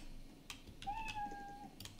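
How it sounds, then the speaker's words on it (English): A cat meows once, a clear rising-then-falling call about a second long in the middle, heard amid faint background noise and brief clicks during Roblox hospital gameplay. "Who is meowing?"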